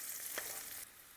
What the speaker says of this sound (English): So now we're going to cook the onions till they are perfect.